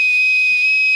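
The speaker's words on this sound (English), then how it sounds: "I got a whistle." A single shrill, steady whistle blast, loud and close, held without a break.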